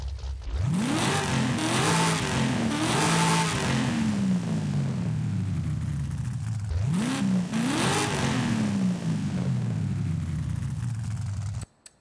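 In Forza Horizon 5, a 1996 Chevy Impala fitted with a sport intake revs up in two quick rising bursts that settle into a sustained loud engine drone, up close and without voices, cutting off at the end.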